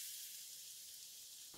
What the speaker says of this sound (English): Once it is hot, add all the minced garlic